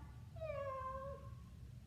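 A person imitates a cat's meow during a parent-and-child yoga cat stretch, giving one drawn-out, rising then falling meow that is clear and close over a faint low background hum.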